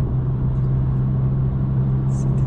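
Volkswagen Golf GTI engine after decarbonization, a steady low drone while accelerating from inside the car, with road noise.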